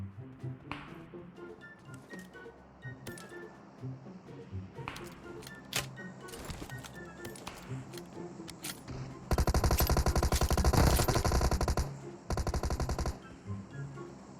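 Gunfire in a video game shooter: scattered single shots and short bursts from distant weapons, then a loud, close, sustained automatic burst and a second shorter one, with no talking.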